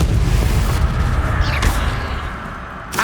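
A Confringo explosive spell cast in Hogwarts Legacy, loud and booming with a dense low rumble, a sharp burst partway through and another crack at the very end.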